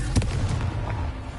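Confringo fire-blast spell cast in Hogwarts Legacy on PS5, a booming burst with a sharp crack near the start, followed by rumbling explosive debris and low crackle fading over a second.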